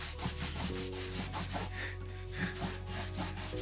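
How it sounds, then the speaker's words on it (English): A cloth rubs satin cleaner over the body of a nine-year-old Taylor GS Mini acoustic guitar, making quiet, rhythmic scrubbing strokes that repeat steadily and close up without talk. "I'm gonna give my guitar a very deep clean and just to get rid of all the grime once and for all"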